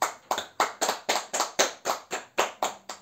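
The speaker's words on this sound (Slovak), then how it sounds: "Ďakujem za potlesk" About a dozen evenly spaced, crisp claps ring out in a church after a Friday Mass, loud and close, in a steady rhythm with no talk.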